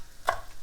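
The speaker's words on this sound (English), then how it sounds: "let's chop this stuff up while the avocado finishes up. Let's take our knife." A single sharp knife chop on a cutting board while preparing vegetables, close and crisp, with quiet surroundings and no talking.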